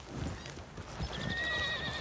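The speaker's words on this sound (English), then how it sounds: "Why is this horse here?" A horse in the western game WildRP, with low hoof clops and a bright rising neigh or whinny in the second half, close and fairly loud over a dull ambient bed.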